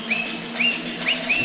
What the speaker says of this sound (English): You can hear Dan whistling in the background as we begin this ball game